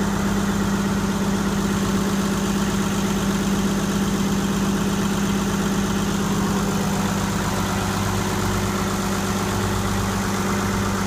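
Ford Lehman 120 marine diesel engine running steadily after an injection pump rebuild, a loud continuous low rumble with a constant even throb throughout, close by, with no talking.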